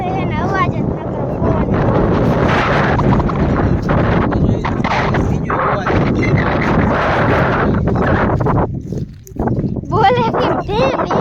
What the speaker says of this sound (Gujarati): પવન એટલો બધો